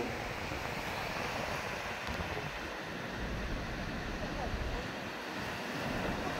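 Ocean waves wash onto a beach at San Juan, La Union, a steady broadband roar of surf with gusty wind buffeting the microphone throughout.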